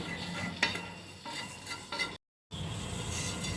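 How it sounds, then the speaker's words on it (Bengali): Cumin, salt, pepper and kasuri methi dry-frying in a pan, a faint steady crackle with occasional soft utensil taps, broken by a brief silent gap, no voices. "লাস্টে দেবো 1 চামচ কাসুরি মেথি দিয়ে ভালো করে 4টে জিনিসকেই ফ্রাই করে নেব।"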